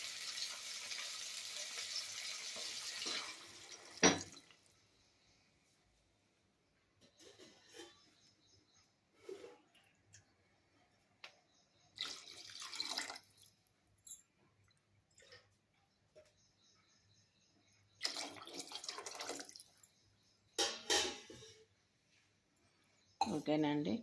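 Water is poured into about one and a half glasses of rice for vegetable rice, a close, rushing splash for a few seconds, followed by quieter stretches broken by occasional voices and kitchen sounds.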